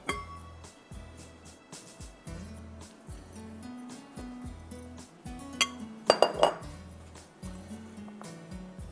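A bowl is picked up and handled in a home kitchen, giving light clinks and taps of dishware spaced through the clip, with a cluster of sharper glassy knocks near the end over a low background hum.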